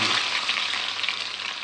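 Cumin seeds and garlic sizzle loudly in a pan of hot fat, a dense, steady crackling hiss across a brief moment.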